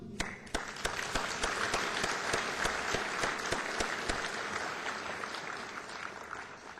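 Audience applause at a closing speech of an assembly, dense continuous clapping from a large crowd heard from some distance, fairly quiet and steady.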